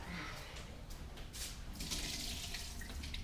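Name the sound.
water draining from pot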